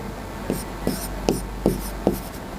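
Writing on a board during an English exam-preparation lecture produces about six short, evenly spaced scratchy strokes over a steady background hum, with no talking.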